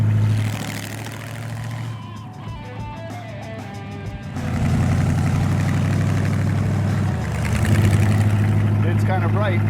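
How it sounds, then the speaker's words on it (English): A Pontiac GTO from the 1964–72 line idles with a steady low rumble on a fresh engine, heard under someone talking and growing fuller midway. "It's a good fresh motor."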